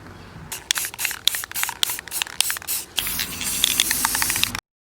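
An aerosol can sprays gold paint onto screws in short hissing bursts, about eight quick close spurts followed by one longer continuous spray that stops abruptly.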